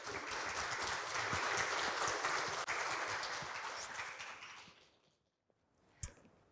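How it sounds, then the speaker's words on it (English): A lecture audience gives a rousing welcome applause for a speaker, loud dense clapping that holds steady for about four seconds, then fades out to near silence, with a single sharp knock shortly after. "applause for his session today"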